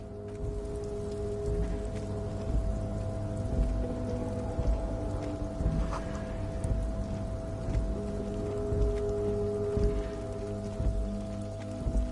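Steady rain in the Disco Elysium video game hisses continuously over a low, droning musical background, evenly loud throughout with no voices.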